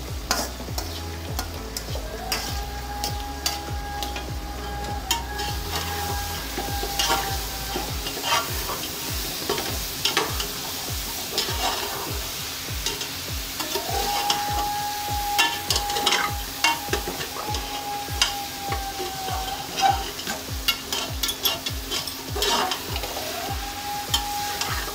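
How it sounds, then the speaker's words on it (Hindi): Minced mutton keema with turmeric sizzles steadily in a pan while a spoon scrapes and stirs in a quick, regular rhythm throughout, loud and close with a faint hum underneath. "दस मिनट लगेंगे इसको फ्राई करने में कीमे को"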